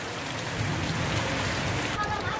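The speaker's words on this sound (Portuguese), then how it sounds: "A chuva tá vindo." Heavy rain pours steadily over a rural farm in Brazil, a dense, continuous hiss of drops on surfaces and foliage that stays loud and even throughout.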